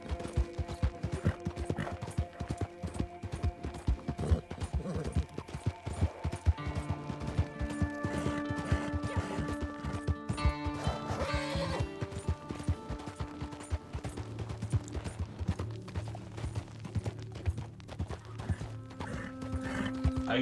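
A horse in Red Dead Online clip-clops steadily along with dense hoof beats and lets out a whinny partway through, close and continuous over a busy game soundscape.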